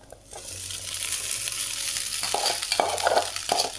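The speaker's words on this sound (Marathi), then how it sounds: "आता मी भात टाकणार आहे।" Rice tipped into a pan of sautéed onions for jeera rice and stirred, giving a steady close sizzle with scraping, clattering stirs that grow busier toward the end.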